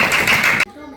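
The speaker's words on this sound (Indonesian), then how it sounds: "Ya, tepuk tangan dulu." Schoolchildren in an elementary classroom burst into a brief, dense round of clapping that sounds loud and close, then cuts off sharply after well under a second into a quiet room.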